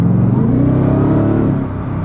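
A Ford Raptor R engine revs hard close by, a strong throaty growl that rises and holds steady through a short burst with no talk over it.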